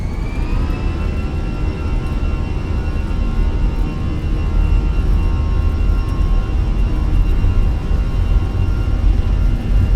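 Aer Lingus A320 jet engines spooling up to takeoff thrust in the cabin, a loud steady roar with a rising whine that climbs and then holds.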